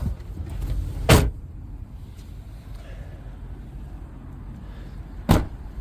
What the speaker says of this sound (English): So you can see the gate kind of closes itself.